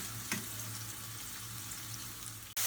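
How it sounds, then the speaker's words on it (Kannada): Sliced white onion and two green chillies frying in a pan make a steady, quiet sizzle that runs through, with a faint clink near the start and a brief knock at the end. "ಸೊ ಇದನ್ನೆಲ್ಲ ಸ್ವಲ್ಪ ಫ್ರೈ ಆಗುತ್ತಂತ"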